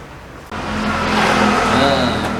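A carbureted Harley Davidson engine starts up abruptly and settles into a loud, steady rumbling idle with a slight rise in revs, close by.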